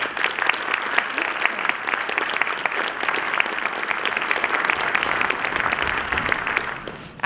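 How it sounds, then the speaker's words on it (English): A debate audience at a school applauds the mayoral runoff candidates: steady, dense clapping from a sizable crowd, sustained at even loudness for about seven seconds without a break. "Let's give our candidates one more round of applause."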